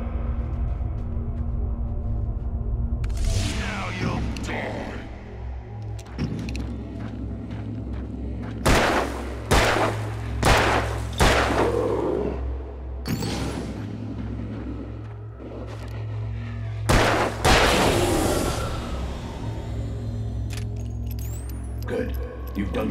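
Gunfire in the video game Alan Wake: a string of loud, sharp shots rings out one by one over a low rumbling backdrop, with some booming hits spaced across the scene and voices speaking in between.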